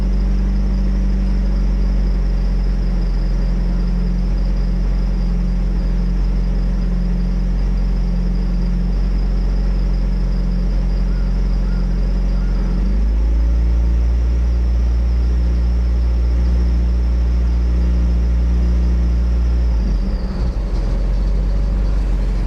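A car engine that is running hot and rough drones loudly and steadily up close, with a deep rumble. Its pitch shifts partway through as the revs rise, then changes again near the end.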